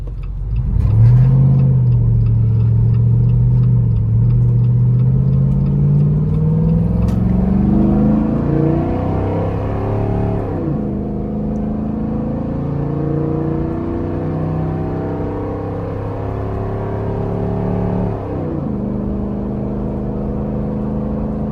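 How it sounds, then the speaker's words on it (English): A loud, deep engine of an off-road vehicle with a very loud exhaust revs up with a rising pitch during a towing test, then holds a steady rumbling drone with brief dips as it shifts or eases off. "we do have a crazy exhaust on this"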